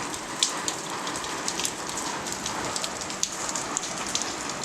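Steady rain on a rainy, cold day, a dense hiss of drops striking surfaces with occasional louder nearby splats, continuous and fairly loud, with no voices.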